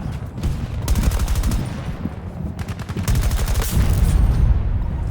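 Rapid bursts of gunfire from Battlefield 2042 rattle out loud and close in repeated volleys, with a player's excited voice cutting in over the shooting.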